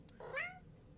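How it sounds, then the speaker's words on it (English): A black-furred cat gives a single short, rising-and-falling meow, close and clear over faint background noise. "It's an interesting looking cat."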